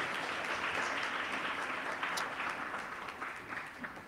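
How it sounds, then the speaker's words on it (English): A congregation at a university chapel service claps together, a fairly soft, continuous wash of applause from many people that fades a little toward the end. "Let's give the Lord a hand clap for blessing us with his word."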